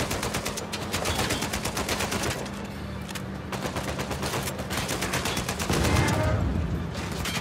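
Rapid gunfire in the video game Uncharted 4, loud bursts of automatic fire in quick rhythmic volleys with brief pauses, continuing throughout.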